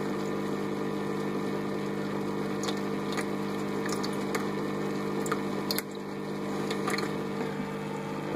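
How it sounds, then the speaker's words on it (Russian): A washing machine pump circulates phosphoric acid through a boiler heat exchanger, giving a steady, moderately quiet motor hum with watery gurgling and a few faint clicks and splashes over the drone. "Насос, обыкновенный насос от стиральной машинки."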